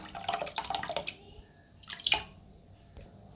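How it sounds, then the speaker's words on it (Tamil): Soaked sabja seeds are spooned into a watermelon milkshake with wet, gloopy plops and a short trickle of liquid, faint and close, with no voices. "இப்போ நம்ம ரெடி பண்ணி வச்சுருக்க மில்க் ஷேக்கில் சப்ஜா சீட்ஸை வந்து சேர்த்துடலாம்."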